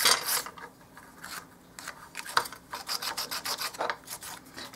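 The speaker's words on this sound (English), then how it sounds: "So now we're going to sand down." Rhythmic scratchy rasping of sandpaper rubbed back and forth over painted wood, close up, in quick uneven strokes with brief pauses.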